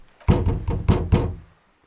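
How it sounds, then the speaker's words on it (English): Four firm knocks on a sturdy metal door in the video game Disco Elysium, evenly spaced and close, with a dull rattling thud to each and no voices. "The door rattles against your knuckles, but there's no response."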